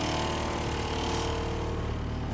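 A 2000 Saturn S-Series engine with 241,000 miles and a manual transmission idles steadily, a loud, even mechanical drone with no change in pace throughout.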